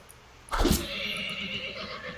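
A horse struck by a thrown javelin lets out a sharp, loud whinny that rises suddenly and then trails off into a fading neigh.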